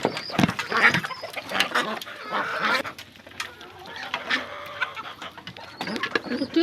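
A small flock of backyard chickens clucking and calling in a busy, overlapping chatter, close by, with other bird sounds scattered through.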